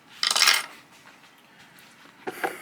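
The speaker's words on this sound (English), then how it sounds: "And there goes the keycap." A keycap snaps off an IQUNIX Wormhole OG 80 mechanical keyboard, making a sharp, bright plastic click and rattle close up, followed by a quieter second clatter near the end, with no talking.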